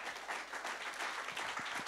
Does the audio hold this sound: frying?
no